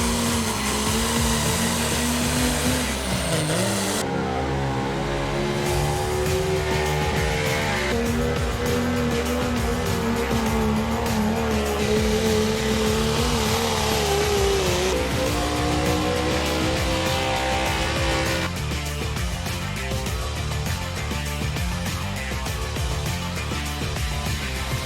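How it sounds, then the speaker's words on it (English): Hot Rod Diesel and Outlaw Street Gas 4-wheel drive pulling trucks roar continuously at a truck and tractor pull at the Somerset County Fairgrounds in Meyersdale, Pennsylvania, loud and sustained, with engine pitch rising and shifting under heavy load. "we have the Hot Rod Diesel 4-wheel drive trucks and the Outlaw Street Gas 4-wheel drive trucks"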